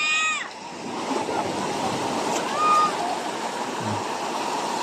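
River water flowing steadily nearby, a constant rushing wash with splashes and faint high voices in the background.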